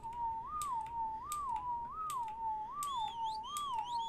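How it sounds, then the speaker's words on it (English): A character's whistle command in the video game Ark sounds as a repeated clear tonal whistle, five rising-and-falling notes in a steady rhythm, with a second higher whistle line joining near the end and light clicks over a quiet background. "That is still the wrong whistle."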